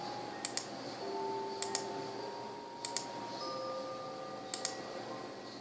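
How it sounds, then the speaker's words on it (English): Soft, paired chiming bell tones in a video game ring out four times at steady intervals over a low steady hum, faint and somewhat distant. "Here are the bells."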